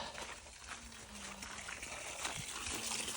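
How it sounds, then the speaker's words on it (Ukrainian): Water from a newly cased well flows out in a faint, steady trickle and splash, a continuous low wash with no voices heard. "Отак водичка лється."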